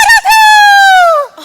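A person imitates a rooster crowing, one loud, close, drawn-out cock-a-doodle-doo call with a short break near the start, heard alone.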